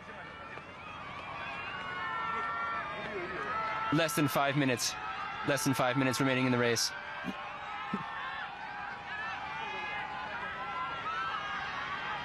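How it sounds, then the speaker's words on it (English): Crowds lining the Tokyo Marathon course cheer on runners in a steady, broad roar that sits beneath a commentator's continuous race speech. "You can hear the crowds. You can hear the mass participation runners going the other way, all cheering on Stara."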